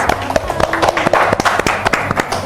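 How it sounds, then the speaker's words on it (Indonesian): A few people clap in a small studio setting, sharp individual claps in a loose rhythm, close and fairly loud, with voices talking over and between them. "Hebat, tepuk tangan dulu dong guys"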